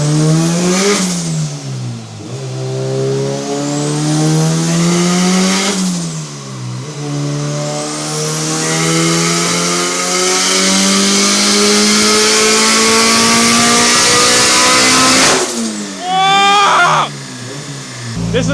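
A turbocharged Honda Civic tuned on 93 octane fuel, run hard on a dyno: loud, close engine pulls climbing steeply in pitch through several gears, with sharp drops between shifts, and a final burst of revving and turbo flutter near the end.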